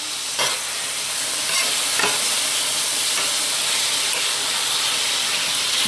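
Chicken stir fry sizzling loudly in an oiled pan, a dense continuous hiss and crackle close up, with a few faint knocks as the meat is flipped and stirred.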